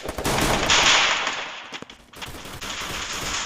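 G18 pistol fire in a video game comes as rapid automatic bursts of sharp cracks, one long burst and then another after a brief gap, loud and close, with no voices.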